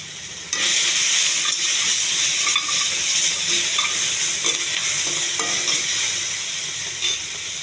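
Tomato with ginger garlic paste sizzles steadily in a pan, a loud, close, continuous frying hiss that starts abruptly after half a second, with occasional soft stirring scrapes and no talk.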